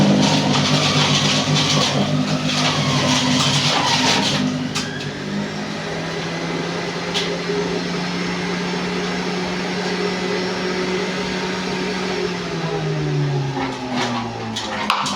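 An electric juicer runs steadily while vegetables are juiced, giving a loud, continuous motor whine close by. The pitch shifts and sags as the load changes, and there is a brief clatter near the end.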